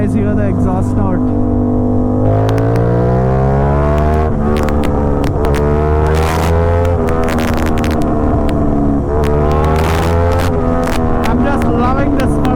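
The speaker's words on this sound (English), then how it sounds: "Can you guys hear the exhaust note?" Aprilia RS 660 motorcycle with a full SC Project titanium exhaust, riding and shifting gears: a loud, close engine note rising and falling through repeated revs, with sharp crackling pops between shifts.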